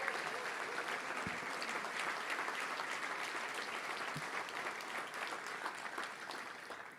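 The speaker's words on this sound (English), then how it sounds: "stand up and let's give them a round of applause" Steady, dense crowd applause from a Touchdown Club luncheon audience honoring former Razorbacks players, a continuous even wash of many hands clapping at moderate level for the full stretch.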